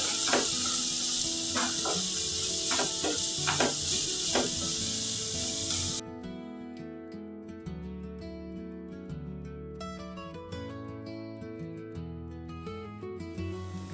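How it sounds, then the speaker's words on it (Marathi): Two medium onions, finely chopped, hit hot oil for a Karwar-style clam dish and give a loud, bright, steady sizzle for about six seconds. The sizzle then drops to a softer level under music. "तेल गरम झाले। आता हांव हितून 2 मीडियम साइज कांदा हे बारीक कट करून घेतले ते घालून घेतली असा। तो बरो भाजून घेवचो।"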